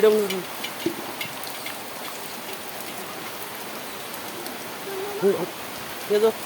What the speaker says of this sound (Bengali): ইস বৃষ্টি